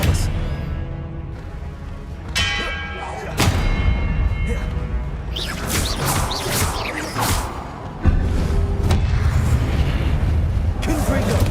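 Confringo and Expelliarmus spell blasts from Hogwarts Legacy boom and crackle in loud bursts amid busy game effects, with a player shouting throughout.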